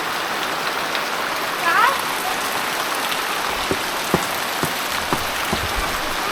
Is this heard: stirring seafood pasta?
no